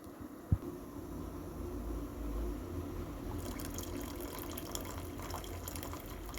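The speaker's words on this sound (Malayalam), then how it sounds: "ഇനി ഇതിലേക്ക് ഞങ്ങൾക്ക് ശർക്കര ഒഴിക്കാം, അരിച്ചൊഴിക്കാം ശർക്കര" Jaggery syrup pours steadily through a strainer into a container, a continuous gentle splashing that thickens partway through, with a brief knock near the start.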